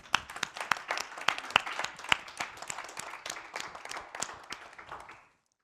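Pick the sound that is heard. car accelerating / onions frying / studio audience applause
studio audience applause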